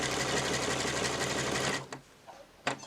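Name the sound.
sewing machine sewing a zigzag stitch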